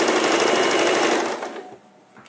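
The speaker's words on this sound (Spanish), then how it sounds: "No sabes usar máquina de coser, vale." A sewing machine stitching close by, with a loud, steady whirring run that slows and fades over its last second, leaving a quiet hum, with no talking.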